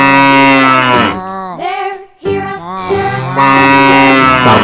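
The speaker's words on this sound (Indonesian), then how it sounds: "Sapi," A cow moos loudly and close, one long drawn-out call that dips briefly in the middle and then swells again, with no other sounds around it.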